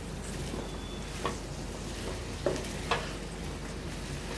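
Green chillies frying in a pan with bay leaf, cloves, cardamom and peppercorns, a steady close sizzle with a few light clicks of stirring.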